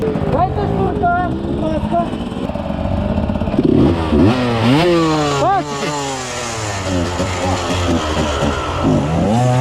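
A motorcycle engine at a motocross race is started and revved in rising and falling whines, close and loud, with people talking over it.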